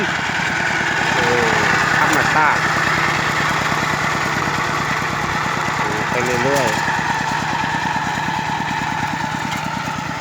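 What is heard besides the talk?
two-wheel walking tractor engine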